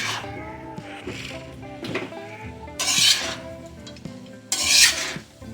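Leftover rice being mixed in a pan for lemon rice, a spoon scraping and clattering against the metal with a couple of louder rasping sweeps, close and alone.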